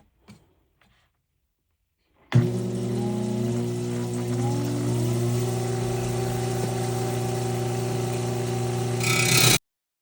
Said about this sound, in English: I'm just going to cut this quartzy red and green jasper in half.